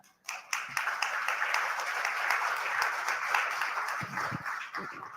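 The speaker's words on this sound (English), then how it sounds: "A big round of applause, ladies and gentlemen." Audience at a startup session of a technology summit in Bengaluru breaks into sustained applause with dense, lively clapping that starts abruptly and carries on for several seconds, a few sharper claps standing out near the end.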